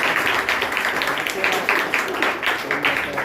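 A crowd at a prize distribution ceremony in an Urdu school applauds with brisk, fairly loud clapping that pulses unevenly, with voices mixed in underneath.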